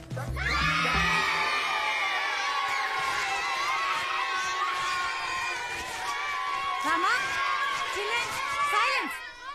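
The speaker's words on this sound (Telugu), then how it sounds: "పిల్లలు ఇంతలా అరుస్తున్నారే, నీకు చిరాకు రావట్లేదా?" Children shouting and screaming in a crowd fill a scene from the Telugu film Bheema, loud and continuous with excited cheering voices overlapping throughout.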